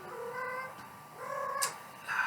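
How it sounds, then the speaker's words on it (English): A cat meows several times in the background, drawn-out tonal cries with a brief sharper yowl near the end, fairly faint and with no talking over it. "sorry about the cat noises in the background"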